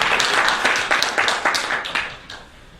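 Audience clapping during a lecture, a burst of quick hand claps from a room of listeners, fairly close and lively, tapering off into a few last claps by the end.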